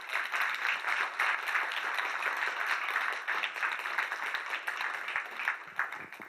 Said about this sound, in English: Let's offer a round of applause to a great panel, if you could.